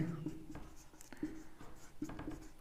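Chalk or marker strokes on a board during a Class 10 maths lesson, faint rhythmic scratches in short repeated bursts, recorded close and quiet with no talk over them.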